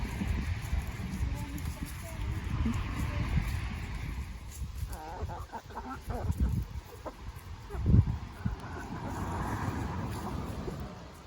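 Backyard chickens cluck and murmur softly while pecking at corn, a continuous close chatter with a few sharper calls and faint background noise.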